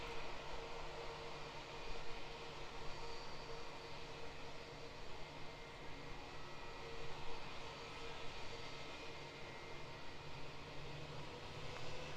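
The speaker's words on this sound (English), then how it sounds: "awesome GE90 sound. Yes, so good, eh, on those 777s" GE90 engines on a Boeing 777 at Auckland Airport give a faint, distant, continuous roar, an even wash of jet noise with slight swells and no talking.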